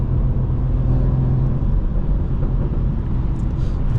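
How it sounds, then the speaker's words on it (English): Steady road traffic rumble heard from inside a BMW 440i on a Sunday street, a continuous loud low drone with no talking. "It's like traffic on both sides."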